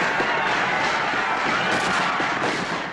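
Dense, continuous barrage of gunfire and explosive bursts, loud and sustained with a rumbling battle roar throughout.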